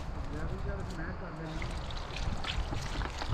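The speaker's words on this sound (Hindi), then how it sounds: "गोश्त को रख के इसमें हम डाल लेंगे थोड़ा सा पानी" Water is poured onto mutton in a karahi set over an outdoor fire, a soft continuous pouring and trickling beneath a man's speech.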